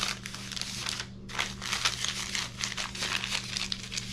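Sheet of newspaper crumpled by hand for spray-paint texturing, a steady close crinkling and crackling that runs continuously with a brief pause near the start, over a low steady hum.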